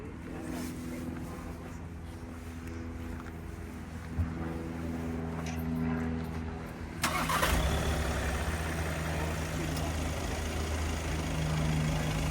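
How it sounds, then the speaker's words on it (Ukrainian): A car engine cranks and catches partway through, then settles into a steady, even idle that continues to the end. "зараз заведу автомобіль"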